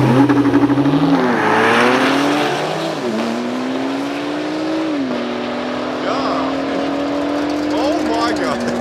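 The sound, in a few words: Porsche passing during drag race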